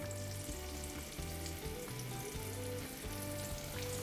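Zucchini and garlic with anchovy paste sizzling in a frying pan, a steady close crackle over a low humming tone, continuous throughout with no voices.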